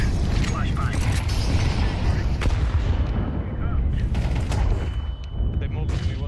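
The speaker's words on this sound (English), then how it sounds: "Throwing fire. Grenade out. Flashbang." Grenade and flashbang blasts in Counter-Strike 2 gameplay, booming explosions and rattling gunfire layered together, loud and continuous, with a player talking over the action.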